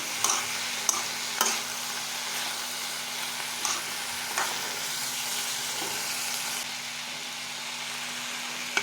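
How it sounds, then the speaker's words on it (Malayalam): Ivy gourd sautés in hot oil in a pan, giving a continuous, even sizzle with occasional soft stirring taps, heard up close with no talking. "ഇനി കോവയ്ക്ക എണ്ണയൊക്കെ ഒന്ന് മൂത്ത് വരട്ടെ നല്ലപോലെ മൂത്ത് വഴറ്റി എടുക്കാം നമുക്ക്"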